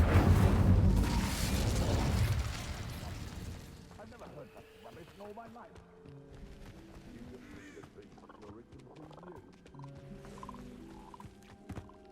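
Casting the Incendio fire spell in Hogwarts Legacy releases a loud, roaring whoosh of flame for about three seconds. It then fades into quieter crackling and rumbling game sounds.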